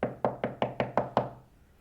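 Seven firm, evenly spaced knocks land on a door at a steady quick rhythm, each ringing briefly, before the sound falls quiet.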